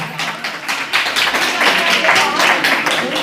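Loud group clapping during an acupressure clapping-therapy session at a health awareness gathering, a dense continuous wash of hand claps with voices mixed in.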